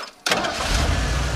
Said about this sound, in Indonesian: Cowok itu berhasil menyalakan mobil Mallory.